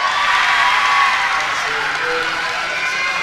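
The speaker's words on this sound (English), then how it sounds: "Big cheering section back behind us." A crowd cheers and shouts in a gym during a women's basketball game, a loud, sustained roar lasting the whole moment with no clear speech.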